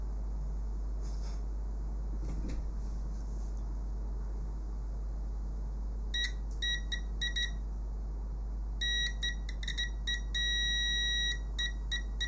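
A multimeter on continuity or diode-test mode beeps while probing a diode in the power supply of a Samsung UE50MU6 TV, giving short clustered chirps and then longer held tones over a faint steady hum.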